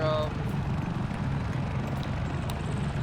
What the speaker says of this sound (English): Can't hear him because of the fucking helicopter.